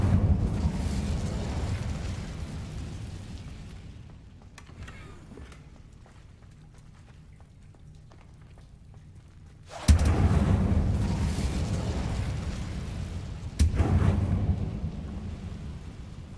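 An Incendio fire spell cast in Hogwarts Legacy bursts out as a deep, roaring whoosh, heard twice with sudden loud onsets that fade into a rumbling tail. Softer ambient rumble fills the stretch before it.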